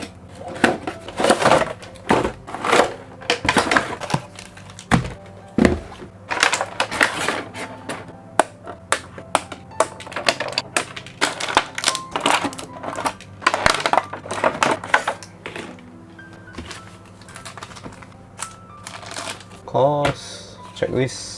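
Bakugan Evolutions Battle Strike Pack packaging being opened by hand, with irregular bursts of crinkling plastic, tearing and rustling cardboard up close, interrupted by short pauses.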